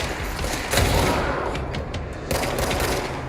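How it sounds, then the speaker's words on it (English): Dense gunfire with heavy blasts in the shooter game Control, including a grenade explosion, loud and continuous with rapid bursts and no talking. "Grenade!"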